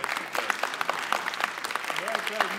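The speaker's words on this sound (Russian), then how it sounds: "Бурные аплодисменты." Enthusiastic applause from an audience after a film premiere in St. Petersburg, brisk continuous clapping with a voice speaking over it.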